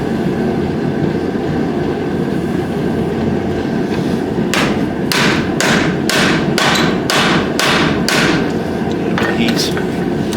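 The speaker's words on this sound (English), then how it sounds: "maybe try hammering it whilst it's in there, like that will hammer onto that piece." A hammer strikes the damaged frame of a Ferrari FF V12 in a rapid run of sharp, close metallic blows about midway through, over constant workshop noise.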